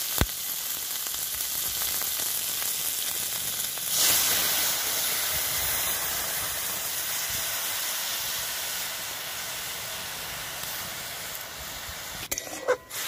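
Jute leaves fry in a pan in a Bangladeshi village kitchen, a steady close sizzle and hiss that flares briefly as the leaves go in, with a few clatters near the end.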